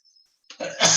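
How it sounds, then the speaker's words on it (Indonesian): A person coughs during an Indonesian lecture recording, starting with a short single cough and swelling into a louder, harsher burst at the end, close to the mic with no talk. "lagi batuk direkamnya"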